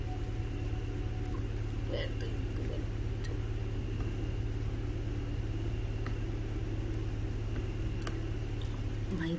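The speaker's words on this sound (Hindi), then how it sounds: "ये एकदम से मेरी गाड़ी की स्पीड को क्या हुआ है? आउट ऑफ कंट्रोल जाए जा रही है" A car in the Fears to Fathom game, Norwood Hitchhike episode, drives with a steady low engine rumble and road drone that holds throughout without any clear acceleration surge, and soft voice-like sounds sit faintly in the mix.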